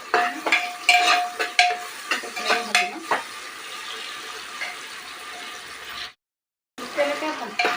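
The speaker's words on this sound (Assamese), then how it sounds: "পিঁয়াজখিনি নৰঙচুৱা নহয় অকণমান বাদামী কালাৰটো নহয় তেতিয়ালৈকে মই ভাজি ল'ম" Onions fry in a pan, crackling and sizzling steadily with rhythmic stirring scrapes at the start, then a softer sizzle and a brief gap before stirring resumes.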